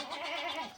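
A goat bleats once in a short, nasal, wavering call, close and clear with no talk, amid a herd of goats and newborn kids on a goat farm.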